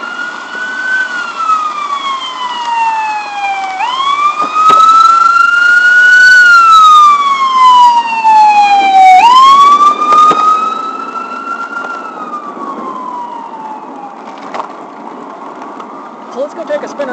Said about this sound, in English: we got the ambulance coming up.